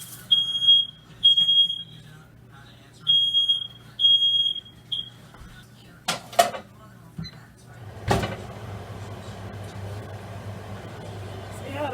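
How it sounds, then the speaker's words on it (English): Smoke alarm in a home kitchen chirping in short repeated high-pitched beep bursts during the first few seconds, followed by clattering and handling noises, with a steady low hum underneath. "see how the fire alarm be trying to bust me out."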